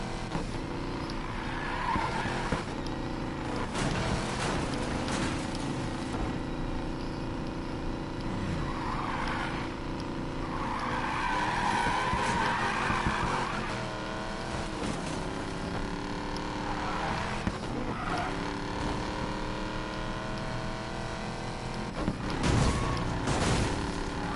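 Car drifting in the Need for Speed Payback racing game, with a steady engine roar and repeated sliding tire squeals across the whole stretch, loud and continuous with no talk over it.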